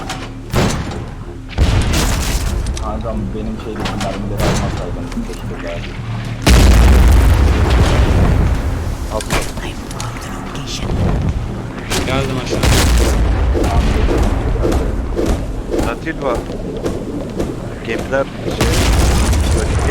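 Heavy booming impacts from a ship's cannon shot striking in the pirate game Blazing Sails, one loud deep blast standing out mid-clip amid ongoing rumbling explosions and voices chatting over the action.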